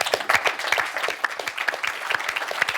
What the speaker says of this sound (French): Je vous applaudis, bravo.